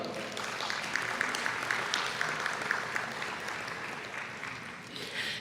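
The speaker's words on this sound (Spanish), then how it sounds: "la despedimos con un fuerte aplauso" Steady applause from a crowd, dense clapping sustained throughout with no voices standing out.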